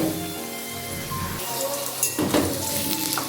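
Potato pieces frying in hot mustard oil with bay leaf, dried chilli and cumin, a steady dense sizzle and crackle heard close up, with a brief louder spatter near the end.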